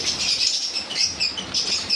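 Lovebirds and Java sparrows kept for sale chirp in a busy, continuous chorus. Bright, high tweets overlap with no pauses, and a soft flutter of wings runs underneath.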